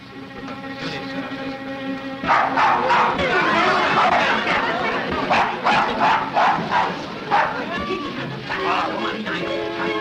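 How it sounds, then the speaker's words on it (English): A dog in a 1936 Alfred Hitchcock spy film barks repeatedly in sharp, irregular bursts amid a crowded scene, with people talking and murmuring underneath throughout. "will you kindly take that dog out"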